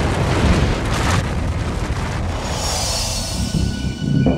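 A deep, rumbling explosion effect builds into a loud, roaring blast of broadband noise that sustains for several seconds before easing off, with no voices.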